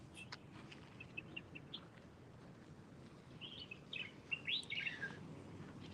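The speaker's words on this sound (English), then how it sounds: "You have no idea what these birds are." Birds chirp and tweet outdoors in a city, faint scattered calls at first that grow into a livelier burst of song near the end over quiet background ambience.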